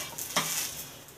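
A rice-flour pancake with garlic greens sizzles quietly in oil on a griddle, a soft steady hiss broken by one brief scrape of a utensil.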